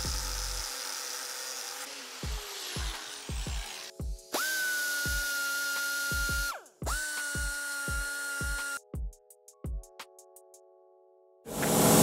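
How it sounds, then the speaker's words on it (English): A die grinder notches an RB26 engine oil pump, with two sustained high whining passes between short tapping bursts and clicks. Close and loud, it stops and starts several times. "then we'll go ahead with the die grinder"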